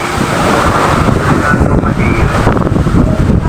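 Big sea waves and strong wind roar continuously at sea, with heavy wind buffeting on the microphone and a dense wash of surf noise throughout.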